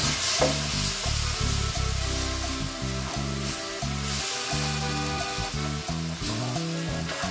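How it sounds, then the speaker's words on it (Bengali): Milk is stirred into a hot frying pan, with a continuous sizzle and repeated scraping strokes of the spoon close by and no talking. "এবারে আমি যে দুধটা রেখেছি এর মধ্যে অ্যাড করে দেব, দিয়ে ভালো করে নাড়িয়ে নেব।"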